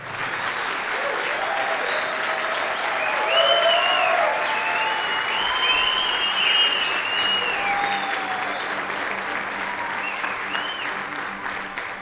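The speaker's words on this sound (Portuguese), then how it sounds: "Você pode ficar de pé da nossa salva de palmas ao Senhor?" A church congregation, standing at the pastor's call, gives a full, sustained round of applause for twelve seconds, with cheers and whoops rising over the clapping and some voices carrying through the crowd.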